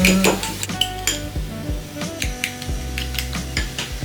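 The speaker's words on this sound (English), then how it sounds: "Then we mix well." Spices being mixed in a bowl with utensils, a series of close, bright clinks and knocks of metal against the bowl in an irregular rhythm, loud with no talking.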